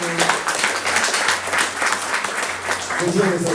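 A church congregation applauding after a prayer, a dense steady wash of many hands clapping throughout, with voices speaking and calling out over it.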